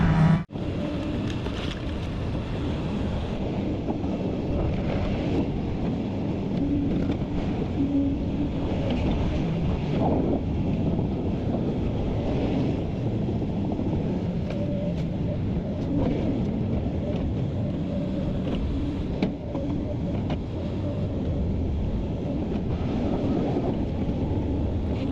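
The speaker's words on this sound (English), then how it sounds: "The wind has picked up." Strong cold wind blows across an outdoor site during a basement dig, a constant low rushing roar hitting the microphone for the full stretch, with no talk.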